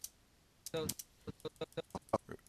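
Computer keyboard arrow keys and space bar pressed during video editing: a brief scuffing burst, then about a dozen crisp, close key clicks in an uneven rhythm.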